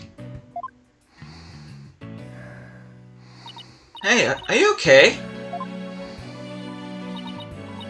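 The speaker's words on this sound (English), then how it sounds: "I always seem to go into coughing fits whenever I get nervous" Several sharp, breathy coughing bursts from a nervous character in the Ace Attorney: Dual Destinies video game erupt midway through, set against steady game music, with a voice speaking earlier.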